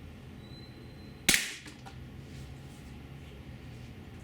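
A single sharp shot from a GAMO P-900 IGT .177 gas piston air pistol, one loud crack with a brief decaying tail, then quiet room tone.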